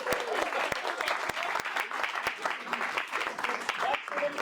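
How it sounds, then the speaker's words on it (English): Applause for volunteers called to the front at a talk, a dense run of clapping with sharp individual claps standing out, close and lively, while people speak underneath it. "big hand of applause for our."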